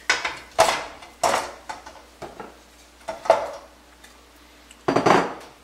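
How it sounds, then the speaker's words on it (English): Pork, veal and beef going into a pan of softened, unbrowned vegetables for bolognese: a series of separate loud metallic clanks and scrapes of utensil against pan, spaced by quiet gaps. "So I'm going to add my pork, veal, and beef."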